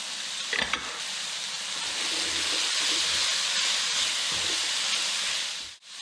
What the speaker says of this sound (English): we're just going to saute them for a couple of minutes.